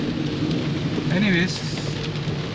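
Rain pours steadily with a rumble of thunder during a cycling ride in Delhi, a dense continuous wash, while a brief voice and a faint tonal sound rise over it midway.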